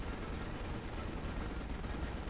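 Dense, continuous gunfire from a player's weapon in Final Fantasy XV Episode Prompto, a steady wash of rapid shots with no pauses and no speech over it.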